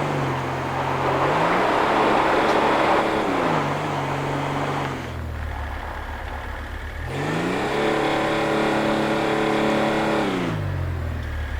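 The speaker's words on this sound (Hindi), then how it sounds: "4500 RPM तक जाती है, बस उससे ऊपर नहीं जाता इसका इंजन।" A Toyota Land Cruiser's engine in GTA5 revs hard as the 4x4 climbs a steep hill, its loud drone rising and falling in repeated surges with a brief dip midway, alone without talk.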